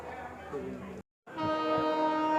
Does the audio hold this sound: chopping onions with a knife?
no